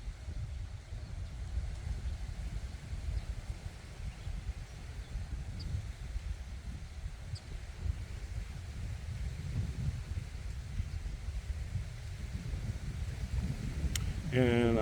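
A breezy day outdoors, with low rumbling wind buffeting the microphone steadily throughout and a faint whir rising near the end.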